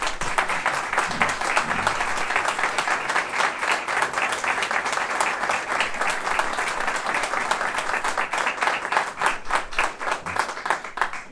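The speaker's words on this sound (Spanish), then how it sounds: "Por favor, un aplauso." An audience at a Mexican posada choir concert gives sustained applause, many hands clapping in a dense, continuous patter at moderate distance for over ten seconds.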